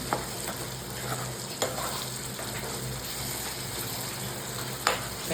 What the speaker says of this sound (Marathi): कांदा गोल्डन होईपर्यंत आपण मिक्स करू असं पूर्णपणे